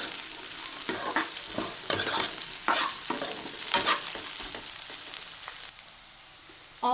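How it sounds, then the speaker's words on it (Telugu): Crispy corn is tossed and stirred in a hot pan on high heat, with repeated scraping stirs and clatter over a low sizzle that thins toward the end. "ఇప్పుడు క్రిస్పీ కార్న్ వేసేయండి గ్యాస్ హైలో పెట్టి ఒకసారి అంతా కలిపేసుకోండి"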